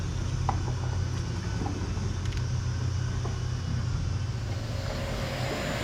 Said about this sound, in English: you can probably hear the noise all around me. There's vacuums and sanders